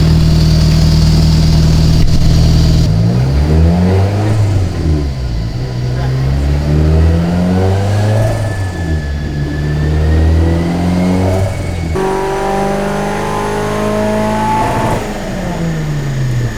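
A turbocharged car engine revs on a dyno, loud and close, rising and falling repeatedly through sweeping pulls with a steady mechanical drone underneath, continuous for the whole stretch.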